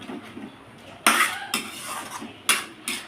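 Garlic cloves being mashed together with onions in a cooking pot for a leafy greens dish, heard as a few sharp metal-on-pot scrapes and clanks in short bursts, fairly close, with no talking.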